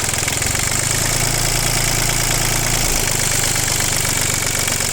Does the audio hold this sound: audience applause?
no